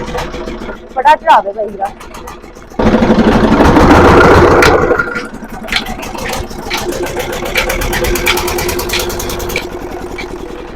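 A Peter diesel engine driving an irrigation pump cranks and catches with a loud burst, then settles into a steady, close thudding idle, with people talking briefly over it.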